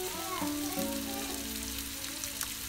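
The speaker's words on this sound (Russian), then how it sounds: "Будем жарить это мясо до готовности" Steady soft sizzling of minced meat frying in a pan for Lebanese kibbeh, with a faint tonal hum in the background.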